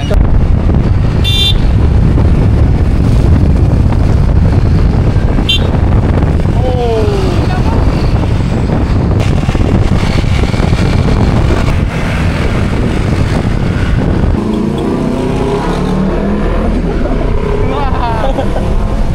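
A Honda ADV and a Yamaha NMAX scooter race, engines droning steadily through heavy wind rush, as if recorded while riding, with people shouting over the noise.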